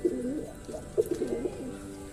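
Pigeons cooing in soft, throaty bursts, several overlapping calls close by, with a low hum in the background.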